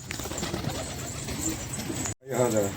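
Pigeons cooing softly in a loft, low rolling coos beneath someone talking nearby, with a brief gap before more cooing.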